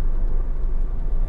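Buses and private cars on a busy road between Malang and Surabaya in the evening, a loud, steady low rumble of engines and tyres close by, with no talking.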